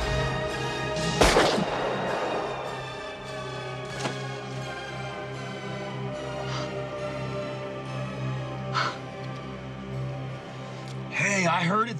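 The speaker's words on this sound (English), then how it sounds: "Another gunshot from the woods." A single sharp gunshot rings out from the woods early on, a loud crack over a steady bed of music, with voices heard in the scene of a Heathers stage production at Moonlight Theater.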